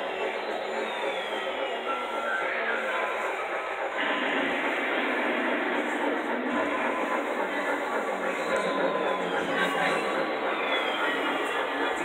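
A train passes at the San Diego train museum by Old Town, a steady, moderately loud rumble that swells slightly a third of the way in and holds to the end.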